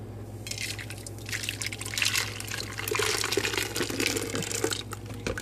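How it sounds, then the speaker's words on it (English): Low-carb keto ice cream mixture poured from a container into a can, a steady liquid trickle with dripping and splashing that swells slightly midway, close by and fairly quiet, with no talking. "You're going to pour the mixture"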